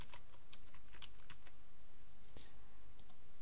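Quick bursts of key presses on a computer keyboard while entering a plugin search term, light clicky taps in short clusters that fade into quiet room noise.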